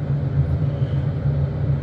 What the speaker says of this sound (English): I've got the effect of the engine starting up behind me.